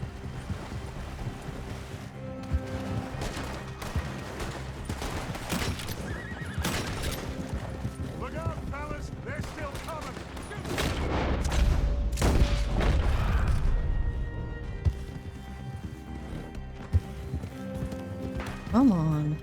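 In the Red Dead Redemption 2 game, horses gallop with a fast clip-clop of hooves and let out several loud whinnies, joined by gunfire-like booms and people talking over the chase.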